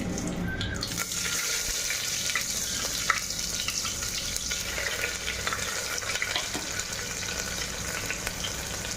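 Chopped onion frying in hot oil with a dried red chili and bay leaves, a dense, continuous close sizzle and hiss with faint occasional clinks, steady throughout and free of speech.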